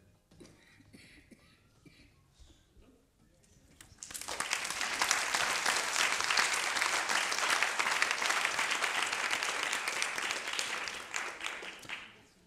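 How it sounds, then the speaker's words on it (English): Audience applause breaks out at a panel discussion on anthropology and powering the planet, starting after a quiet few seconds, then a dense, steady clapping that holds before tapering off at the end. "Thank you very much for the applause."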